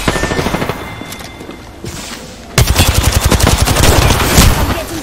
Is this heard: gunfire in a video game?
yes